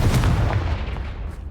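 A Confringo blasting spell explodes in Hogwarts Legacy as a single loud, close, heavy blast with a short rumbling decay, with no talk over it.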